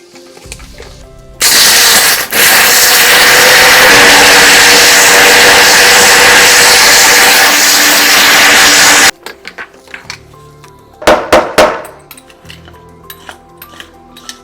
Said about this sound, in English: this is just going to go all in my grinder